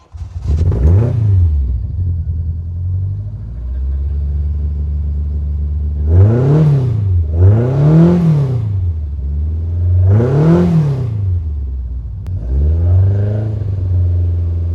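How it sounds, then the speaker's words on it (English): A classic rally car engine with twin Weber carburetors idles with a low rumble, then revs sharply three times in quick succession and once more, the exhaust note rising and falling each time. "You can hear the twin Webers. Definitely sounds the part."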